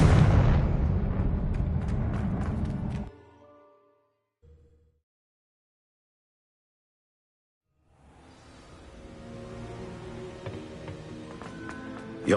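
A Confringo blasting curse bursts in the Hogwarts Legacy video game: a loud, dense explosive roar fills the opening seconds, then cuts to near silence with a faint thump, before a rumbling game ambience swells back in.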